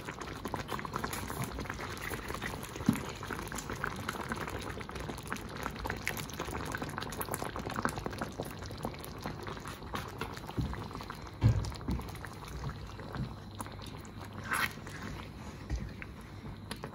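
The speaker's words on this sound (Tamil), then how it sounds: "அது இப்போ நல்லா பாயில் ஆகிட்டு இருக்குது" Beef stroganoff sauce with thick cream boils steadily in a pan, a continuous dense bubbling and popping with occasional louder pops, with no talking.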